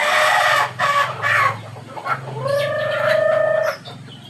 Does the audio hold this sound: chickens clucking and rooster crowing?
yes